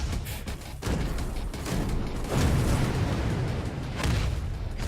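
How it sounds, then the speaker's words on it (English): A barrel blows up in the fast-paced shooter MOTHERGUNSHIP amid dense, continuous game noise, with booming blasts and rumbling bursts that stay loud and steady throughout without pause. "that is a barrel that we need to explode"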